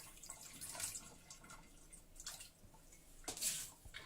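Water being poured onto granulated sugar for marshmallow (zefir), with soft trickling and dripping splashes at close range, a few brighter bursts of flow, and no talking.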